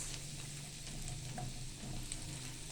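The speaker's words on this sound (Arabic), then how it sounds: "نديله تقليبة كده. طبعا احنا مش بنحمره، احنا بندبله بس" Crab stirred in a pan with chopped garlic, softening rather than browning, gives a steady close sizzle with scraping stir sounds throughout and no talk.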